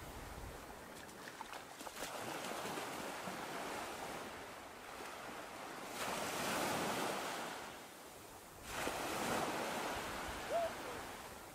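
Sea waves washing onto a beach, a continuous broad surf hiss swelling in slow surges as breakers roll in, with faint wind and no talk.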